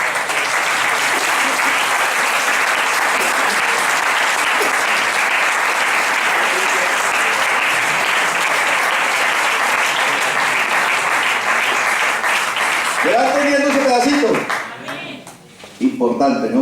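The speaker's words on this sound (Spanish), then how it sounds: "¿Por qué no le dan un aplauso a Jesús?" A church congregation applauding during a sermon on Romans, a long, loud, steady wash of clapping that fades out near the end as a voice comes in over it.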